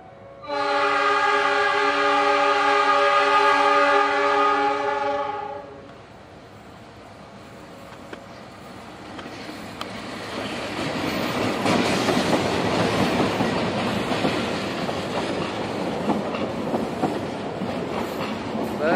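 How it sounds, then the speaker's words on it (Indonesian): A loud, sustained horn from a G20 locomotive hauling the Lodaya train blares for several seconds, then the train rumbles past with rising rail noise and clatter. "Ini dia kereta api Lodaya menggunakan lokomotif G20."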